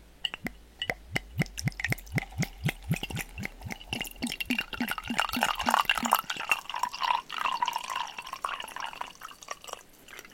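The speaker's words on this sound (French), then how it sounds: "Maintenant, on va servir l'eau" Water poured into a cup already holding tea leaves: a series of distinct drips speeds up into a continuous, gurgling fill that rises in pitch as the cup fills, heard close and alone.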